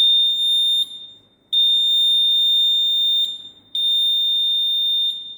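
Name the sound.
electric buzzer sounding when button pressed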